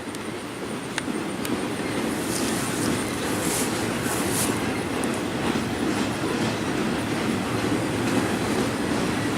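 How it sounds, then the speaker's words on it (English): Long BNSF freight train carrying containers rolls past in Springfield, Missouri, a loud continuous rumble of wheels on rail with faint clicks and squeals throughout, no voices. "Quite the long train."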